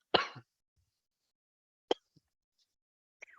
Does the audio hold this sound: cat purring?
no